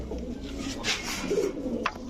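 Soft coos from Army breed pigeons at a pigeon sale rise and fall over a low background hum, with a brief sharp tap near the end.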